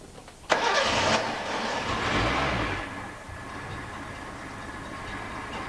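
A car engine is started: a sudden cranking burst catches into a rough, loud running engine that settles to a steadier, quieter idle.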